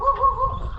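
Dogs bark briefly on a rural roadside, a short close yelp or two heard while a Harley-Davidson touring motorcycle passes.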